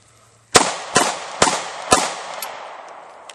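Four sharp firearm clicks in a survival and preparedness practice setting, spaced about half a second apart, then a quieter fifth tap; loud and close, each with a brief ringing tail, with no talking.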